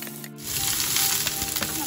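Oil and sliced onion hit a hot pan and start sizzling at once, a close, bright, hissing crackle that continues steadily with no talking.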